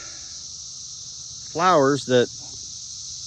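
Cicadas droning steadily in the woods, a constant high buzz that runs through the whole stretch, faint and distant, briefly overlaid by a spoken voice near the middle.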